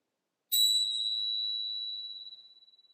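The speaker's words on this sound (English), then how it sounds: "So you can hear the tones of the Tibetan bells" A single bright metallic Tibetan bell tone is struck once and rings out with a long, pure sustain, slowly fading with a gentle beating shimmer.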